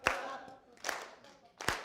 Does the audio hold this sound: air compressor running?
no